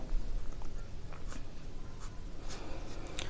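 Pen or pencil writing out a maths answer for a Class 6 NCERT exercise on numbers, a faint, soft scratching with a few brief strokes, heard alone and close without talk.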